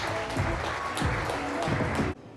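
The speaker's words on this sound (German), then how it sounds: "Und da jetzt einen riesengroßen Applaus für unseren heutigen Sprecher" An audience at a talk gives a guest speaker a dense, steady wash of clapping at moderate distance, which stops abruptly after about two seconds.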